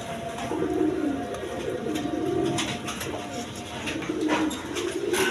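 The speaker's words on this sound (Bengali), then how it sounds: "এইখানে এক পেয়ার রাসগোল্লা কবুতর আছে" A pair of Rasgolla breed pigeons coo in low, repeated rounded phrases close by, over a steady background murmur with no clear talk.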